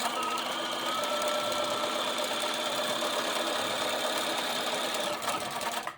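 A sewing machine runs a double-needle stitch through fabric, a steady fast mechanical whir and needle chatter held at even speed for several seconds, close up and alone, easing off right at the end.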